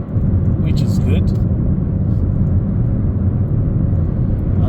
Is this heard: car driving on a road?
yes